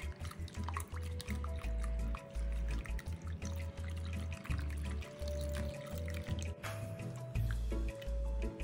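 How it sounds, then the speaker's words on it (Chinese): Clear water is added gradually to a starch batter for steamed water gourd cake while it is mixed, making wet squishing, sloshing and dripping sounds in an uneven stirring rhythm, close and moderately loud, with no voices. "接着再将730克清水加入，水边加入，边拌匀。"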